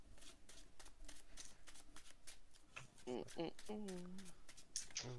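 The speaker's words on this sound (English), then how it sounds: "So I gotta shuffle." Magic cards being shuffled during a Commander (EDH) game, a run of rapid riffling flutters and card slaps close to the mic, with players talking over and around the shuffling.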